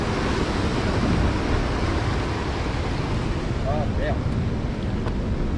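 Steady wash of ocean surf at low tide mixed with wind buffeting the microphone, loud and constant, with faint voices briefly audible beneath.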